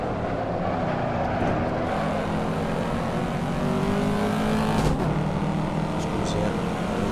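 A Corvette C7 Stingray race car in the Assetto Corsa racing game gives off a continuous engine drone and road noise under someone speaking Italian.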